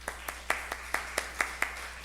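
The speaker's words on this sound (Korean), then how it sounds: "반가우니까 박수 한번 쳐줍시다." Eight or nine hand claps in a slow, even rhythm, fairly faint against a quiet background hum.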